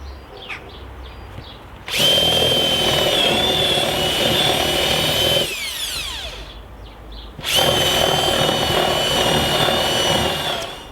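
A power drill bores a pilot hole through an oak sleeper for a timber retaining wall, two loud sustained whining runs of a few seconds each separated by a brief slowdown, close and with no talking.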